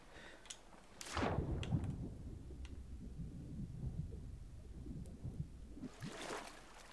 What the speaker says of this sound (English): The storms are coming!